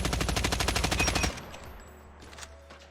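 Rapid automatic gunfire sprays from a weapon in an aim-training shooter game. About a second and a half of fast, evenly spaced shots are followed by a short lower tail and faint in-game movement noise.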